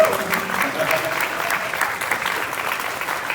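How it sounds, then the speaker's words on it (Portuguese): A crowd applauding, with loud, dense clapping that stays steady and close for the whole stretch before easing slightly toward the end. "Palmas para a vida."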